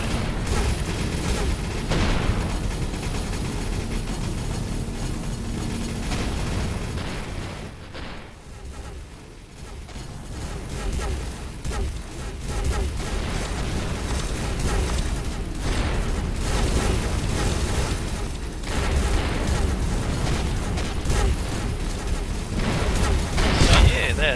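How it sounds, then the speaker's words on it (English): Chain guns and fleet guns fire in a space battle in the video game Avorion. Dense, continuous rapid gunfire and booming blasts make a loud, busy din that dips briefly partway through, with a voice talking over it. "There's the chain guns."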